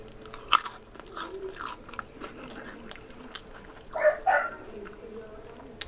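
Chili cheese pork rind snacks being bitten and crunched close by, a few sharp crisp bites with a louder crunching burst near the end, over quiet room background.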